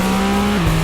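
Car engine of a driving simulator racing game, holding a steady droning tone that drops in pitch partway through, loud and continuous with no talking.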